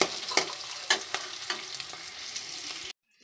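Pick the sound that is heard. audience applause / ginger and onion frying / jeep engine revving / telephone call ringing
ginger and onion frying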